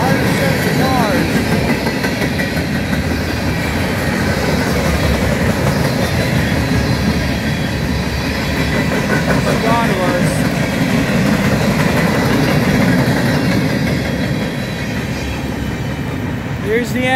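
A very long northbound manifest freight train of 160 to 170 cars, led by CN ES44DC and C44-9W locomotives, rolls steadily past close by, its loud continuous wheel rumble and clatter holding throughout with faint squeals.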